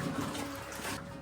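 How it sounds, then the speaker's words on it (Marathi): Slow-flowing water inside a cave, heard on a boat trip through it, a soft, steady wash of water with no voices. "फक्त वल्लवण्याचा आवाज आणि संथ वाहणारं पाणी."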